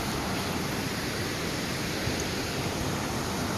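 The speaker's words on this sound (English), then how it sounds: "Another water crossing, another beautiful waterfall." Waterfall and creek water rushing along a lush canyon trail at Havasupai, a steady, dense, close roar of falling and flowing water that holds unchanged throughout, with no voices.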